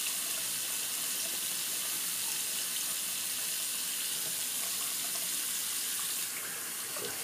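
Running tap water splashes steadily over shaving brushes as soap is rinsed out of them, a continuous broadband hiss that stays even and close throughout, easing slightly near the end.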